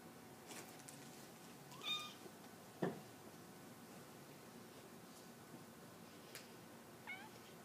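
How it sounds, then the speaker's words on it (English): A house cat gives a couple of faint, brief meows against a quiet background hiss, with a few soft rustles in between and no speech. "This was my first cat."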